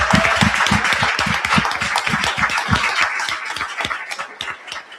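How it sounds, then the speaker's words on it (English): Audience at a STEM summit clapping in a dense, steady burst of applause that fades slightly toward the end, close and loud with no talk over it. "Let's give her a big round of applause."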